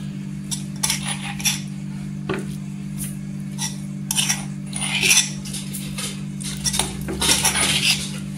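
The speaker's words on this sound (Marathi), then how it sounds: "कुटून घेतलेला ठेचा आता आपण आहे ना प्लेटमध्ये काढायचा आहे" A spoon scrapes and clinks against a plate while crushed green chilli thecha, a Kolhapuri chutney, is moved onto it, giving irregular close metallic scrapes and taps over a steady low background hum.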